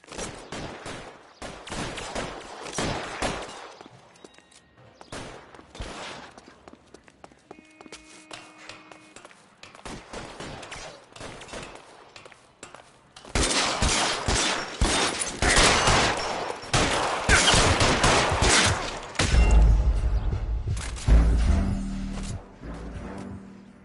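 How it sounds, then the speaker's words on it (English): Gunfire in the video game L.A. Noire, bursts of rapid shots and scattered single reports with running footsteps, quieter stretches then a loud sustained fusillade in the latter half. "All units, shots fired, officer needs help."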